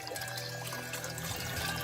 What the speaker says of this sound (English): Let me just pour it all in there.